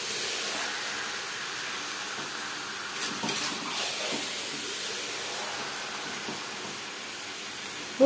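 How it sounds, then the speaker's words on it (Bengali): Chicken meat and onions being stirred in a hot pan for restaurant-style chicken curry: a steady close frying hiss with a few soft scraping stirs in the middle, no voices. "পেঁয়াজের সাথে মাংস বেশ ভালো করে মিক্স করে দেবো।"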